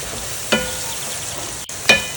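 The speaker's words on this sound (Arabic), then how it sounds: "نقلبها كذا لحد ما تطلع ريحة البهارات مع البصل والثوم" Onion, garlic and spices fry in a pan with a soft, steady sizzle, broken by two distinct scraping knocks of a stirring utensil and a brief dropout, close and without speech.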